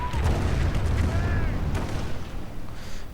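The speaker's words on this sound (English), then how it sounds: "Calliope barrage again going in against the cemetery and the MG there" A Calliope rocket artillery barrage in a World War II strategy game hits a cemetery position as a dense, rumbling series of booms and blasts, with dull impacts layered over steady low battle noise.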